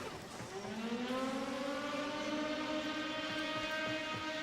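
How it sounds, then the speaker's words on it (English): Rising, wailing defense-mission sirens in the sci-fi video game Warframe, several tones sweeping upward together and then holding a steady, loud howl over rumbling background noise, with no talking. "the sirens go, and the mission begins"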